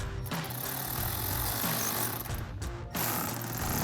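A power impact driver with a 5 mm Allen socket tightens screws on 2009-2014 Ford F-150 fender flares, a loud continuous rattling buzz with brief gaps between bursts, close by and alone.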